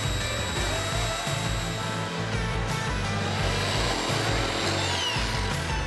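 Power tool whirring steadily at close range while cutting a rectangular opening in an OSB floor panel, a continuous loud buzz with slight pitch shifts throughout.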